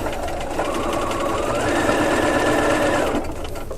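A sewing machine stitches fabric strips fed through a HandiGuide strip attachment, needle set to stop in the down position, running in one steady close burst of about two and a half seconds with no talk.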